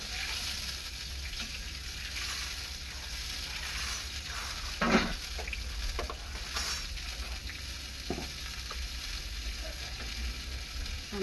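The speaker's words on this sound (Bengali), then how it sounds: "আর একটু জল দিয়ে দিলাম, যেহেতু মাছটা একটু হবে সেদ্ধ তো হওয়ার আছে, একটু একটু সেদ্ধ হোক মাছটা" Fish curry bubbles in a pan after water has been added, a soft continuous simmering sizzle with occasional faint clinks and stirring sounds, fairly quiet and steady throughout.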